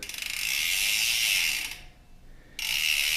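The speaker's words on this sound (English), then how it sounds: "the Roval / DT Swiss hub with the 54 tooth ratchet system" A Roval DT Swiss bicycle hub with a 54-tooth ratchet freewheel buzzes in a fast, dense clicking whir as the wheel spins backward, briefly dropping out before resuming loudly.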